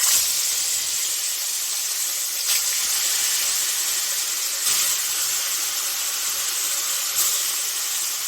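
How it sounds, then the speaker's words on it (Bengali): Katla fish, rubbed with salt and turmeric, frying in hot white oil for a Bengali dahi posto dish, giving a steady close-up sizzling hiss with a few brief louder spatters and no talk. "আমার তেলটা গরম হয়েছে এখন এখন আমি মাছটা দিয়ে দিচ্ছি"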